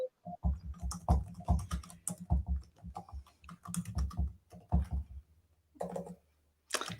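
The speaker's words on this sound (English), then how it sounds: "I'm just typing here." Steady, rapid clicking of keys on a computer keyboard, close up, with brief pauses between bursts of typing.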